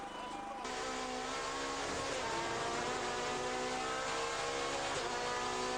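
SEAT touring race car lapping the 3.6 km Oschersleben circuit in a 2003 European Touring Car Championship race, its engine loud and continuous, rising through the gears under a commentator's voice.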